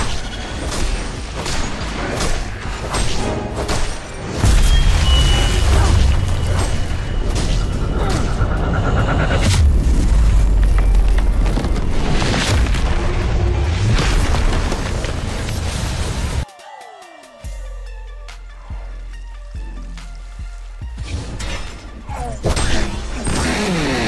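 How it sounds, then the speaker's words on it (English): Explosions tear through a Legion tower as it is destroyed in the arena video game Devourer, heavy booms and crashing layered into loud, dense battle noise that drops off abruptly near the end, leaving quieter game sounds. "The Hellborn have destroyed a Legion tower."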